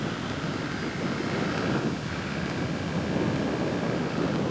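An airplane landing produces a steady, broad engine roar with rushing wind noise, continuous and fairly loud, with no talking.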